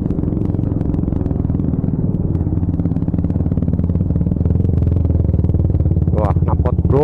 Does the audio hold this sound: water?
no